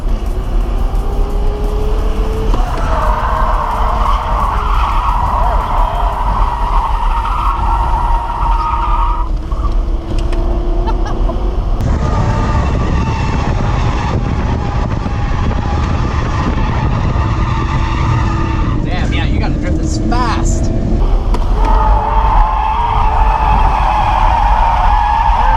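A car lapping a track roars loudly and close, its engine pitch climbing through gears, dropping on shifts and rising again over a rough, continuous drone.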